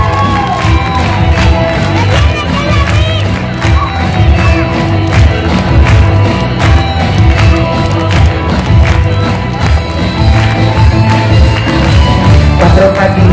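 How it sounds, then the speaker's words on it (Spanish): A live show audience in Mexico City, loud constant crowd noise of cheering, children shouting and clapping over booming stage music, filling the whole stretch without letup. "Todos aplaudiendo de fuerte a Max."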